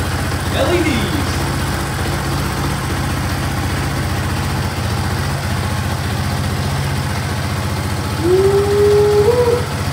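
A Honda ATC 200X three-wheeler engine idles steadily nearby with a low, even rumble, and a couple of brief squeaky tones rise over it.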